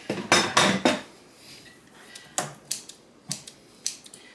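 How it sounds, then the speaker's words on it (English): A knife chops canned chunky tomatoes on a cutting board in a home kitchen: three quick close knocks, a pause, then six or so sharper, evenly spaced taps. "I'm just chopping up these tomatoes"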